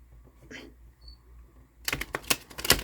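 Tarot deck being riffle-shuffled by hand: faint handling of cards at first, then a loud, rapid burst of crisp card flutter and snaps lasting about a second near the end.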